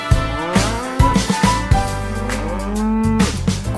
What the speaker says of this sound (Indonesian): Contohnya adalah seekor sapi.